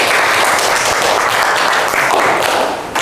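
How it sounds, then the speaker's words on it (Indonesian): Audience applause at a classroom gathering, dense continuous clapping from many hands, loud and close, tapering off slightly near the end. "Tepuk tangan sebelumnya untuk kalian semuanya."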